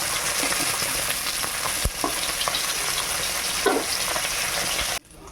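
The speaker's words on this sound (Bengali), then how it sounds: "মাছটা ভাজা হয়ে গেছে" Koi fish sizzles and spits steadily in hot oil in a pan, a loud continuous frying crackle with occasional stirring clinks, briefly cut off near the end.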